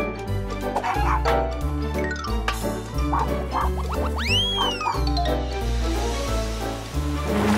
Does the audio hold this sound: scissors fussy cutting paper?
no